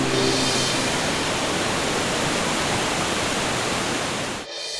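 Steady roaring rush of a waterfall below a hilltop Narasimha Swami temple, a dense broadband wash that stays loud and even before cutting off abruptly near the end.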